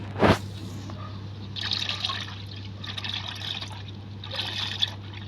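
Thinned engine oil mixed with flush additive drains out of a Perodua Kelisa engine, a soft bubbling trickle in short gurgling bursts over a steady low hum, preceded by a quick sharp knock.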